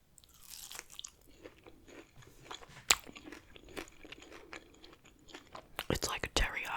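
Close, quiet crunching and chewing of Wingstop Spicy Korean chicken wings, scattered crisp bites with one sharp crack early and a dense cluster of loud crunches at the end, soft mouth sounds between and faint whispering mixed in.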